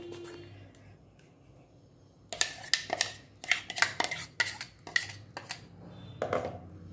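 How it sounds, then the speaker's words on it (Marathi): A thick breakfast batter being stirred in a bowl, heard as a quiet start followed by a run of sharp, irregular spoon clinks and scrapes against the vessel, close and alone. "जास्त पातळ हे मिश्रण बनवायचं नाही, व्यवस्थित हलवून घ्यायचं आहे।"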